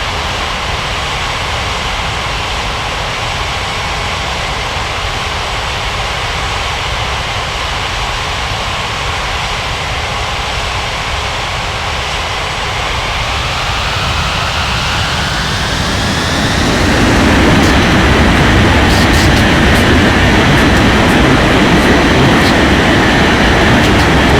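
In an air traffic control video game, a cargo aircraft rolls for takeoff down the runway, a loud continuous engine roar that swells and rises in pitch toward the end.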